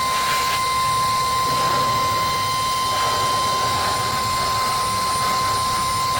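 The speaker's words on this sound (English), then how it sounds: "You see that it blows pretty good wind. It would blow up an inflatable pretty quick." A mini car vacuum run in blower mode pushes out a loud, constant rushing stream of air, close and unbroken, with no talking.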